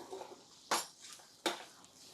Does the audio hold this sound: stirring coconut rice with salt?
yes